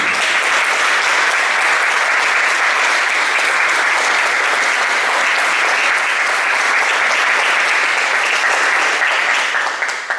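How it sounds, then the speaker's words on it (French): Sustained, loud applause fills a municipal council chamber, steady and dense from start to finish with no voices rising above it. "Je pense qu'on peut les applaudir."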